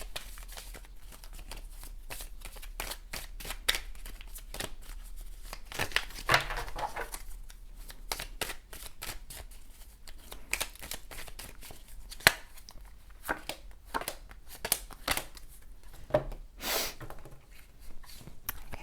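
Tarot cards are shuffled at length in a quiet room, with a close, irregular stream of soft riffling and slapping flicks that occasionally grows louder, and no one speaks.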